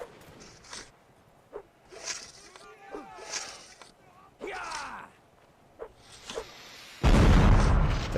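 A deep, booming cannon blast in the video game Mount & Blade: Napoleonic Wars bursts out near the end, loud and close, after quieter clatter, thumps and scattered game sounds.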